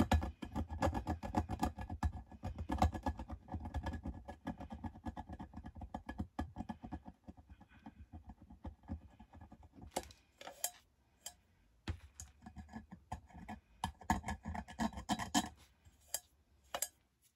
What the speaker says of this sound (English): You're just scraping it off.